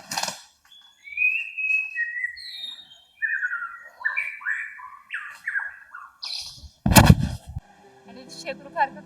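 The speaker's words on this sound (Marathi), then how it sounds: "शेकरूखारचा तुम्ही आवाज ऐकलाच असेल." An Indian giant squirrel (shekru) gives a loud, sharp burst of calls in the Matheran forest, standing out over a steady backdrop of chirping birds.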